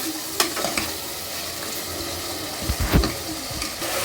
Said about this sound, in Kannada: ಇದು ಇನ್ನೂ ಸ್ವಲ್ಪ ಚೆನ್ನಾಗಿ ಹುರಿಬೇಕು